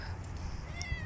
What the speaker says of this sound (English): Oh my god, there is a cat here.